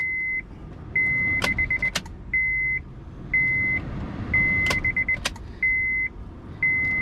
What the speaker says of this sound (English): Go ahead and cycle the key a couple times just to get our fuel pump primed up.